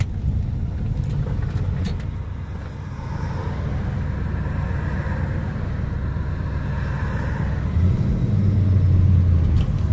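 A 1970 Buick GS 455 Stage 1 with a four-speed manual, its engine running in a smooth, steady low rumble that swells slightly louder near the end, with no voices over it.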